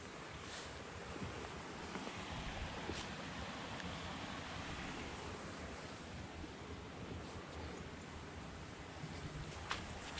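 Floodwater rushes through an overflowing stream beside a farm footpath, a steady broadband roar that stays loud and continuous with gusts of wind buffeting the microphone, and no voices.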